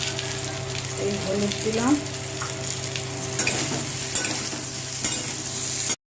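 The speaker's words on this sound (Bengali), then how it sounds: "এলাচ আর তেজপাতা, আর এই জিরের সঙ্গে ভাজবো।" Cardamom, bay leaf and cumin fry in hot oil with a continuous close sizzle and occasional stirring scrapes, while someone speaks briefly over it.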